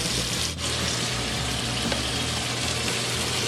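Sausage fries in a gumbo pot for authentic Louisiana Cajun chicken gumbo, giving a steady close sizzle with a constant crackling hiss and no voices.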